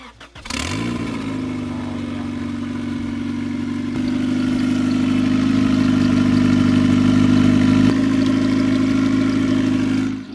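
A rebuilt turbocharged Honda Civic engine cranks, catches and settles into a steady, loud idle that swells slightly in volume, with no talk over it.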